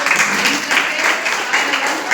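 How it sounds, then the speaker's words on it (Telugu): Many people in a church congregation clapping at once during Sunday worship, a thick, even wash of applause that carries on without a break for the whole moment. "అభినందనలు అంటే చప్పట్లు మాత్రమే నా దగ్గర ఉన్నాయి."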